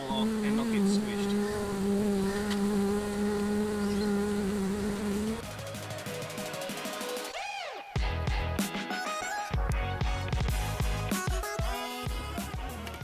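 Honeybees buzz in a steady, close drone while a hive is opened for inspection, then a person talks over busier, shifting bee noise and handling sounds.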